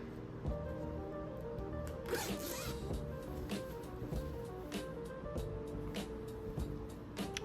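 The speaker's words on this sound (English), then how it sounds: "you're going to zip up" A zipper on a homemade A-line skirt drawn up in a run of rapid ticking clicks, close and continuous, with no talking.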